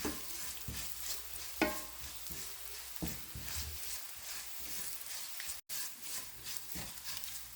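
Chilli powder and ground spices fry in a pan over low heat while being stirred for a Kerala beans carrot thoran, giving a steady soft sizzle with scraping stir strokes and no talk.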